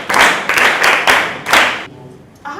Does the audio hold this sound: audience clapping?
yes